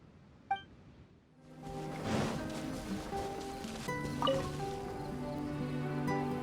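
Glacial spring water in the Genshin Impact game, a single bright drip followed by a swelling shimmering trickle of flowing water with tonal chimes and another droplet, steady and moderately loud.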